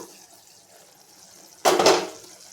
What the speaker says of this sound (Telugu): ఎగిరిన తర్వాత చిన్న గ్లాసు చింతపండు రసం పోసుకోవాలి